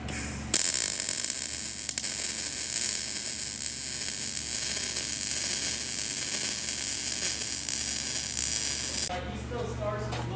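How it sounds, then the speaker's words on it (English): Steady crackling sizzle of welding on a suspension jig in a home shop, running continuously for about nine seconds at a close, even level before cutting off. "He's about to get down welding."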